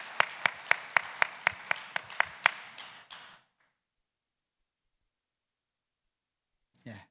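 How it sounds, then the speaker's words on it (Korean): A church congregation claps to welcome newcomers. Sharp, rhythmic hand claps at a steady pace fade into a few scattered claps and then silence, with a brief voice at the very end. "우리 큰 박수로 환영하겠습니다."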